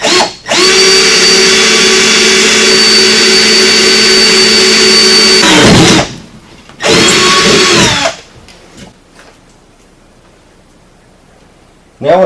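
A power drill whines at a steady high pitch while boring a bolt hole for a Seizmik rear rack, stopping, then running a second short burst before falling quiet, close and loud.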